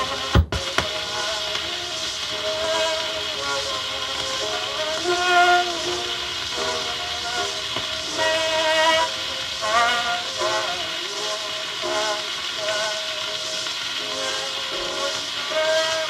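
A 78 RPM record played with a poor stylus, producing loud steady hiss and crackling surface noise, with a faint voice and music barely showing through it.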